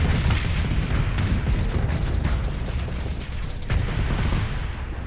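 Heavy, continuous rumbling blasts and crashing impacts from a Reaper torpedo strike in Starsector, dense and loud throughout with a few sharper hits standing out, no voices.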